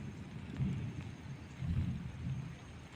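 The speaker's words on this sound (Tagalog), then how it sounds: "napakalakas talaga ng ulan ngayon" Heavy rain pours steadily along a road, with low rumbling surges that rise and fall. It is faint and distant, and no one talks.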